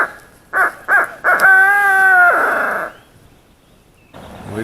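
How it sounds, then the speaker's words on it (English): A loud, nearby crow-like cawing rings out in the woods during a youth-season turkey hunt on Ohio public land: several short caws, then one long drawn call, then quiet before faint rustling. "We just ended up hearing a bird back here."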